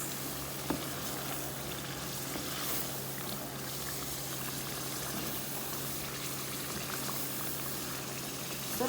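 Black pepper chicken masala with garam masala, coriander and whole chillies bubbles and sizzles in a pot as it is mixed, a faint, even hiss with a low steady hum underneath.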